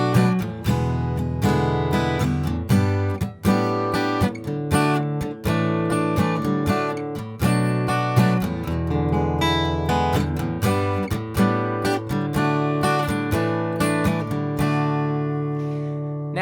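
An acoustic guitar strums an alternative chord progression, bright ringing chords struck in a steady rhythm, played close and alone for about sixteen seconds before the last chord fades.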